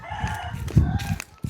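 Chickens clucking and crowing close by in a Thai rural setting, a short burst of loud, choppy calls ending in one sharp cluck.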